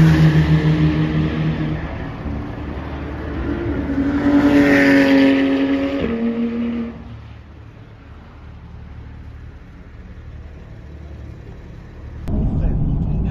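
A Corvette C8 accelerating on a track during a driving course, its engine rising from a steady drone to a louder strained pitch, then easing off, with an instructor's voice heard over the engine.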